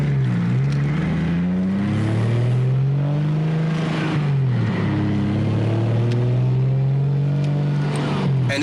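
A turbocharged BMW E36 328i four-door idles and revs up close, its engine note rising and falling steadily with a journal bearing turbo, loud and continuous with no talk.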